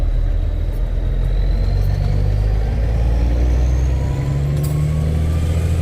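A Kenworth K100 barn-find truck with its engine running, giving a steady deep rumble close by. The pitch shifts slightly partway through, and no one speaks over it.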